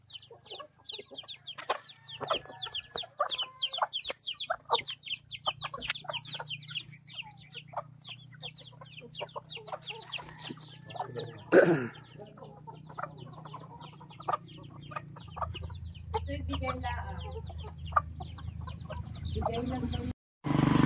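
Chickens and chicks in Mulanay, Quezon cluck and peep in a dense, continuous chatter of close, rapid calls over a low background hum, with a brief louder disturbance midway.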